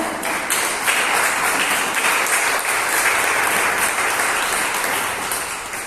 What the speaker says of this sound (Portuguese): As palmas para essa palavra maravilhosa